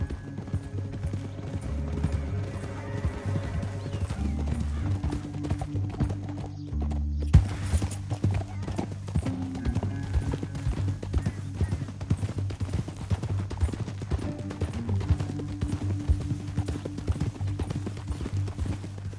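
Horses galloping in Red Dead Redemption 2 on PS4, a dense, continuous patter of hoofbeats over a low rumble, with a brief whinny-like break midway and riding on steadily to the end.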